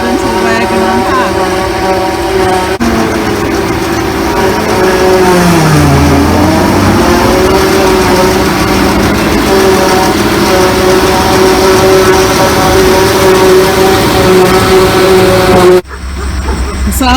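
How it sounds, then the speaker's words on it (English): Tractor pulling a forage harvester that picks up grass for silage at a farm open day, a loud steady engine drone running throughout with a brief shift in pitch partway, close by and continuous. "Here comes the tractor now with the harvester on back."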